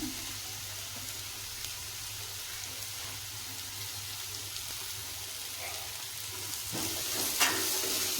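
Roasted cluster beans frying in a pan give a faint, steady sizzle with occasional soft stirring scrapes, growing slightly busier near the end, with no talking.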